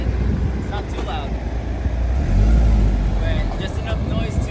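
Honda S2000 Type S fitted with an R Compound aftermarket exhaust runs with a steady low engine drone that swells briefly midway, heard nearby beneath people talking.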